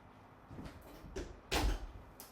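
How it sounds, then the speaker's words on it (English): An indoor room door is pushed shut, with soft shuffling and movement first, then a single louder thud as it closes, fairly near and on its own. "Let me close this door."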